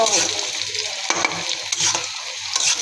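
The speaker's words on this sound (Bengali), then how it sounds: "এখন ভেজে নেব। ফোড়নটা ভাজা হয়ে গিয়েছে" Garlic and onion tempering for a lentil and vegetable dish sizzles steadily in a hot pan, with a spoon stirring and scraping through it in loose, irregular strokes close up.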